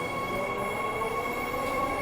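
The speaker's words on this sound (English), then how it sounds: "we'll take film a Midland line train entering later on" A Midland line passenger train rolls into a suburban railway station platform with a steady rumble and a high wheel whine, continuous and fairly close throughout.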